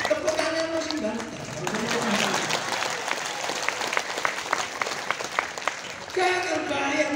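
Audience applause at an Islamic lecture marking one century of NU in Tarakan, a broad steady wash of clapping lasting several seconds, with a voice speaking at the start and end.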